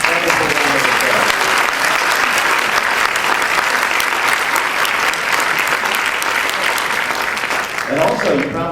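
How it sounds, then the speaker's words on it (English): Sustained, loud round of applause from an arts convening audience at the Community Foundation of Greater New Haven, honouring the Music Haven group, dense and steady throughout before easing slightly near the end. "Let's give them a wonderful round of applause."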